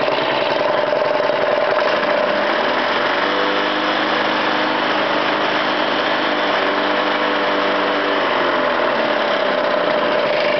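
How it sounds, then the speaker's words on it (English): A Honda small engine with newly replaced jets idles slowly and steadily, loud and close, with a constant rumbling drone and a slight shift in tone midway. "That's a nice slow idle."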